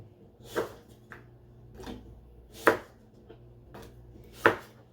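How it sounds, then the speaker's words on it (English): A knife slices through firm apples onto a board, several crisp, close chopping thuds spaced about a second apart, with no talking. "So I'm gonna finish chopping these apples or slicing them."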